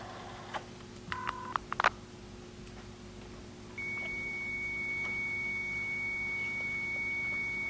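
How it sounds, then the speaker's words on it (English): Computer modem data tones over a telephone line: a few short beeps and chirps, then a steady high-pitched carrier tone that holds on, fairly faint, with no talking. "that's the sound of the computer at the other end, talking over the telephone"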